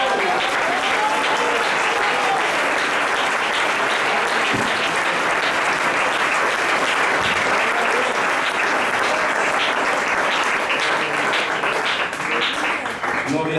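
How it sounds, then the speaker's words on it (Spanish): A church congregation applauds the Lord in a sustained, loud burst of clapping that fills the space evenly from start to finish, with a few voices rising within the crowd. "Un aplauso al Señor"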